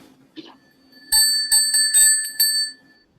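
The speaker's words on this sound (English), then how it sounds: "Jingle bells on the bell." A bicycle bell rings in a quick series of bright dings, about six strikes in uneven rhythm, close and loud after a brief quiet start.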